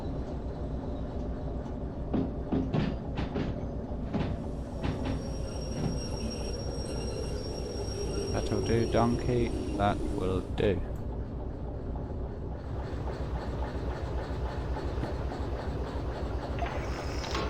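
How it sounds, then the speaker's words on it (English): Locomotive running in the train simulator game Derail Valley, a steady rumbling engine drone with clanking and brief wheel squeal, heard under someone talking. "Train."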